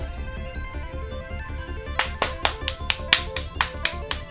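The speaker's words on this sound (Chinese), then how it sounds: "拍手！" A few people clap their hands in a quick burst of sharp, bright claps that starts partway through and keeps a brisk irregular rhythm over soft background music during an Overwatch 2 livestream.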